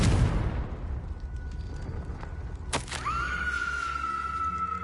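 A Confringo fire-blast spell goes off in a PS4 wizarding game, a sharp burst followed by a sustained ringing tone over rumbling ambience, with no talk.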